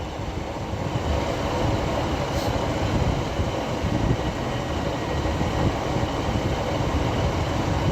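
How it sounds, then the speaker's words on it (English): A Class 150 diesel train on a Blackburn to Rochdale service rolls into Castleton station with a steady, broad rumble and rail noise that holds evenly throughout, no voices present. "Now coming in is a 150 from Blackburn to Rochdale."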